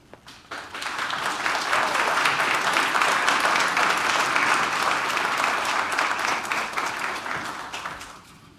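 Sustained audience applause fills a 75th anniversary commemoration ceremony honoring Atlanta's first Black police officers: dense, steady clapping from a large crowd that swells quickly, holds for several seconds and tapers off at the end.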